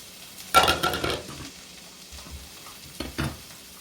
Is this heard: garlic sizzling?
yes